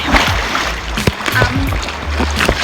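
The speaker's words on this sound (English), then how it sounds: "So we're going to walk through the water." Sea water splashes and sloshes around legs wading through rough high-tide surf at a beach, irregular close splashes with voices talking intermittently underneath.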